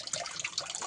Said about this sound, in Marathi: असं पाणी वाहतात